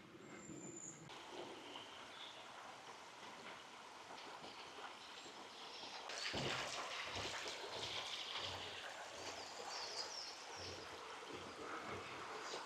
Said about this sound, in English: I can hear another stream now.